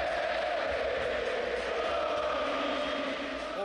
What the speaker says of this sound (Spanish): Ovación a Maidana cuando sale a calentar